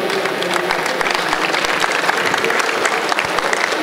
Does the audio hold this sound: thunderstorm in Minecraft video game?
no